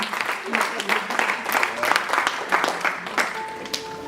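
Church congregation clapping in dense broadband bursts throughout, with some voices underneath and a sustained tone near the end.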